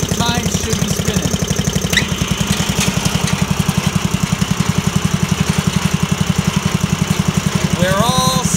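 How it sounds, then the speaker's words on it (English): A Troy-Bilt Horse rototiller engine idles with a steady, rapid, loud chugging pulse while its tines spin in freewheel, with a brief rising whine near the end. "So we have the engine running at idle here."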